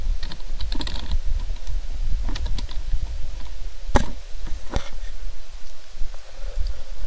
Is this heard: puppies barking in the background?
no